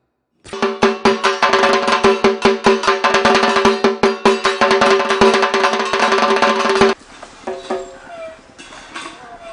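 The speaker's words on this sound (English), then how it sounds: "Beating the leather skin with 2 sticks generate the sound." A leather-skinned drum beaten rapidly with two sticks, dense rolling strokes with a ringing tone for several seconds, then stopping abruptly, leaving faint background sounds.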